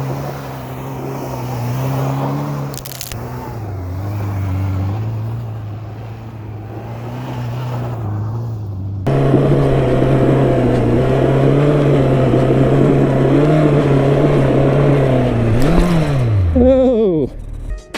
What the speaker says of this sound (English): Time to take the bike off road, see what this thing's really capable of.